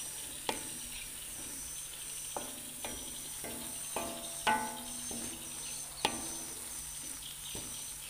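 Cassava leaves simmering in coconut milk in a large pan are stirred steadily: close, irregular scrapes and knocks over a soft sizzle, with faint insect chirping behind.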